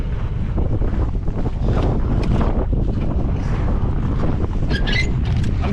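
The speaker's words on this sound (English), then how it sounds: "It's very windy." Strong, steady wind roars and buffets the microphone out on a frozen lake at an ice camp, a constant loud low rumble filling the whole stretch with no talk.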